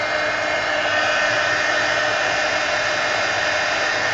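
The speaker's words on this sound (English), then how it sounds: "get my heat gun and dry the edges here" A heat gun blows a steady, loud, unbroken roar while drying the edges of a mixed media napkin journal. It runs alone at close range and never pauses.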